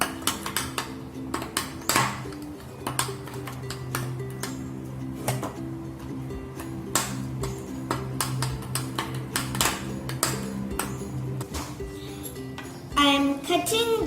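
Walnuts, pistachios and cashew nuts are stirred in a bowl for a no-bake red velvet cake, producing steady clinking and tapping of a spoon against the bowl over a low musical background.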